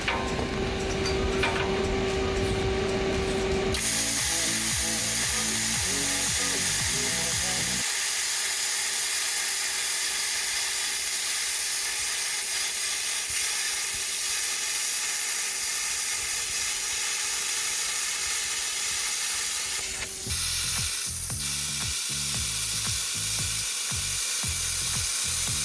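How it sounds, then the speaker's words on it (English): A plasma cutter cutting a steel patch piece on a Ford F150, a loud continuous hissing roar that shifts in tone as the cut progresses, with brief changes and crackles near the end. "Ryan's getting ready to do it with the plasma"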